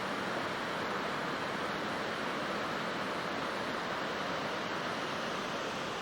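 Waterfall in the Nantahala backcountry of North Carolina, a steady, loud broadband roar of falling water that holds constant with no pauses or voices.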